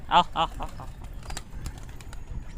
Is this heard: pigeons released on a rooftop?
yes